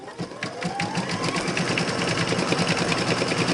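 A home embroidery machine starts up and stitches in a rapid, steady mechanical chatter of needle strikes, loud and close, with no talking.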